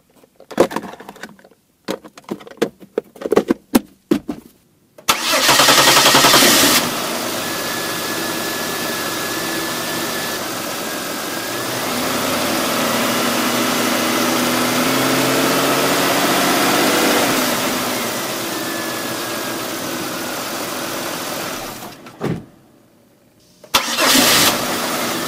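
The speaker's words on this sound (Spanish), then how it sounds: "ahora sí podemos arrancar el vehículo" A car engine starting after injector cleaning: a few sharp clicks and cranks, then the engine catches and idles steadily for about fifteen seconds, a quiet gap, then it fires up again briefly.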